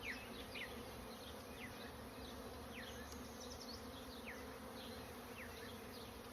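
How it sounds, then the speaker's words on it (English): Bees buzzing around an open beehive during an inspection, many close, darting buzzes passing by over a steady hum, fairly quiet and with no talking. "I think those were bees."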